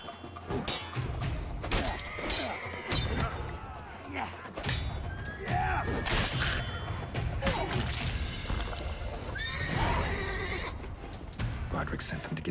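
Horses in a Witcher video game whinny and neigh repeatedly amid clattering hooves, thuds and combat crashes, with voices talking over the busy scene.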